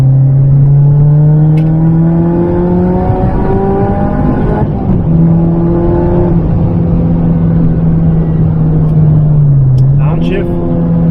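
Supercharged Mazda ND Miata on BBS rims with Bilstein shocks and Brembo brakes, its engine droning loud and steady as it is driven through twisty roads, pitch rising and falling with throttle and a brief gear change near the end.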